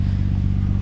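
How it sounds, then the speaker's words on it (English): Fuel pump on a 1994 Nissan Skyline GT-R R32 runs with a steady, close, low droning hum that pulses rapidly and evenly, with no talk. "Fuel pump on the GTR is so noisy."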